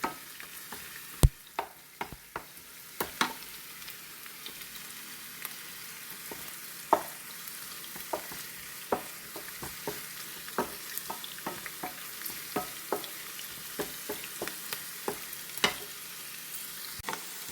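Capsicum, onion and dried red chillies sauté in oil for chicken kadai, giving a steady low sizzle broken by frequent sharp clicks and scrapes of a spoon stirring against the pan, with no talking.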